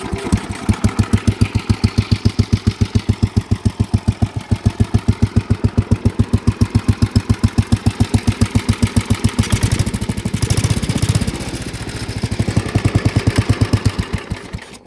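A Harley motorcycle engine with a fuel-injection issue runs at idle after starting, a loud, close, rhythmic putting chug with a slight rise in revs partway through.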